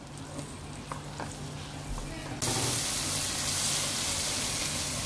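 Kashmiri chili frying on a slow flame, sizzling steadily throughout and growing louder and fuller midway, with a faint low hum beneath.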